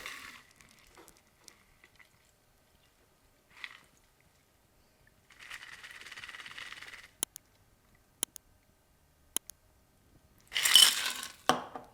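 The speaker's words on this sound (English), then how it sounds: "Now fill a Collins glass with ice and pour." A cocktail poured over ice into a Collins glass: a steady splashing pour of a couple of seconds, sharp clinks of ice against glass, then a louder rattling burst near the end, all fairly close with no talking.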